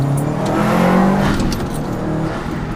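A car moves past close by on the road, its engine and tyre noise swelling loudly and then easing off as it goes.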